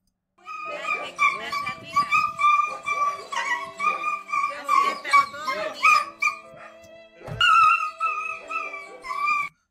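A dog barks, whimpers and howls in loud, repeated bursts, its cries rising into long wavering howls with short pauses between them, while someone talks over it.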